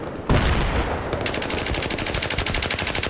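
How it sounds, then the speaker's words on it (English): Rapid automatic gunfire from a Battlefield 3 Conquest match on Kharg Island, loud and close, with a brief opening burst and then a sustained rattling stream of evenly spaced shots carrying on to the end. "so I started shooting him, but I didn't get him that time"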